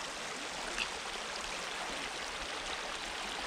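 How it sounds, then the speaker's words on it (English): Water flows steadily in Moore's Mill Creek in Chewacla State Park, a constant close babbling rush with no voices over it. "This is Moore's Mill Creek."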